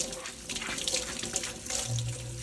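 Tap water runs steadily into a sink while a luffa sponge is rinsed, a continuous splashing hiss with small shifts in the flow as the sponge is moved under the stream.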